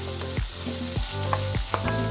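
Chopped carrot tossed into a hot frying pan for pancit canton, giving a loud, close sizzle with several sharp stirring scrapes and clatters over about two seconds.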